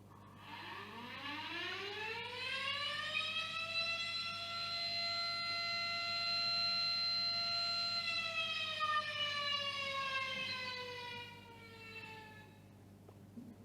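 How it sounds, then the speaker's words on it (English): A siren recording plays for an audience: a single rising wail that climbs, holds a steady tone, then winds down and fades, moderately loud with no talking. "what kind of thoughts that come to your mind when you hear this noise or siren"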